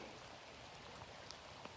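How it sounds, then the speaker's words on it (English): Steady, faint rain falls at Swan Lake, Montana, a soft continuous hiss with a few sparse drip ticks and no voices. "It's been raining for at least a day since yesterday afternoon and now this morning."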